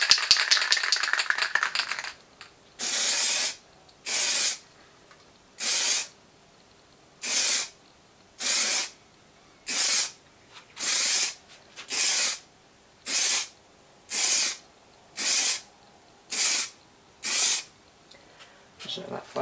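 A spray paint can lightly dusts a Mitsubishi Colt air filter housing in a series of about a dozen short, even hissing bursts with brief pauses between them, close up and alone after a few seconds of faint background noise.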